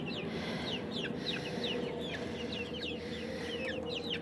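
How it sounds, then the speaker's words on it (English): Backyard city chickens make soft, repeated clucks and short chirpy calls as they wake up in the morning. The calls sound fairly faint over a steady low background hum. "The life of city chickens."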